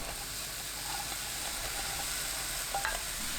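Thin-sliced beef brisket, 500 g, stir-fries over high heat in a preheated pan with green garlic stems, giving a steady close sizzle with faint scraping of stirring and a brief louder clatter near the end.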